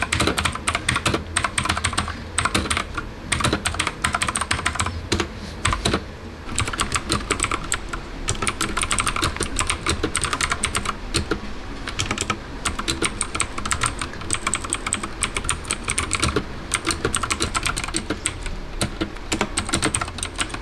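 Steady, rapid typing on a Mars Gaming MK5 mechanical RGB keyboard, dense clicky keystrokes running continuously and close up with no voices.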